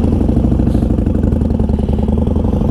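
A 2020 Harley-Davidson Sportster Forty Eight sits idling in neutral, its loud, close engine thumping in a steady, uneven lope with mechanical clatter and no talk over it.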